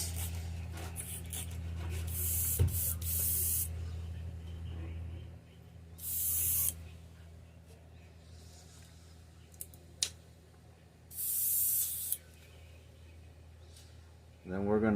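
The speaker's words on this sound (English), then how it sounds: "Gonna clean this airbrush out." An airbrush being cleaned out sprays in three short hissing bursts close by, with small clicks and handling noises between them and a low background hum.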